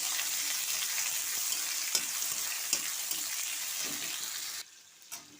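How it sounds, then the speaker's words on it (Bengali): Chopped onions fry in a pan with cinnamon and a bay leaf, a steady hiss of sizzling with a few sharp crackles and stirring knocks, dropping quieter near the end. "এই দেখুন, পেঁয়াজগুলো আমার ভাজা ভাজা হয়ে গিয়েছে"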